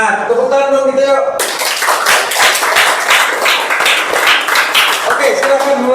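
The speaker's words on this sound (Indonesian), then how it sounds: "Tepuk tangan dong kita yuk." A group claps together at a school coding and artificial intelligence event after a voice leads in, the claps rising into a steady rhythmic round that continues to the end.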